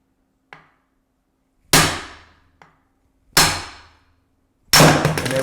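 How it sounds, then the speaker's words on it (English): A steel hammer strikes the bottom of an office chair's gas cylinder column, held by the chair base, in four blows. Two are loud, ringing metallic clangs and two are light taps, each separated by a short silence. "Then you'll grab the hammer with one hand and the chair base with the other, and you'll strike the bottom of the cylinder column."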